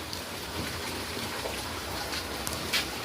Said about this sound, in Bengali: সকাল রাত থেকেই বৃষ্টি হচ্ছে